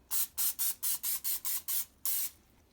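Cooking spray greasing a 9x13 baking pan: about nine quick, evenly spaced hissing bursts, then a short pause and one longer spray, close and clear with no talk.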